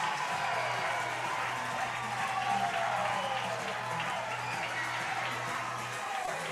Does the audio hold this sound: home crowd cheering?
yes